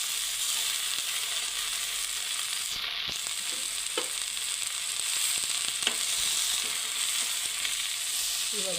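Fenugreek leaves frying in a pan for methi sabji, with a steady soft sizzle and a few scraping stirs, close up and alone without any talk.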